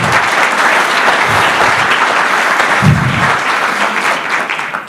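A loud, steady round of applause fills the room from an audience at a conversation event with the Nevada governor, dense clapping holding for several seconds before tapering off.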